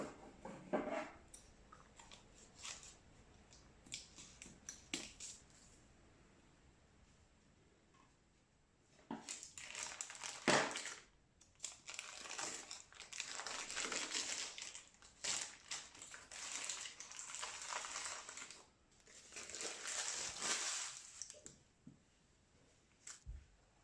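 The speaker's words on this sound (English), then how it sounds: "We can now unwrap him." A freshly baked panettone is unwrapped from its paper baking mold, giving intermittent crinkling and tearing paper sounds in bursts, close but fairly quiet, with pauses between.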